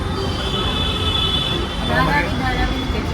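Steady rumble of a moving Mumbai metro train with a thin high whine from the wheels, continuous and fairly loud throughout.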